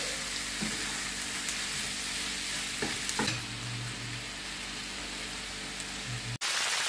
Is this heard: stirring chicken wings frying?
yes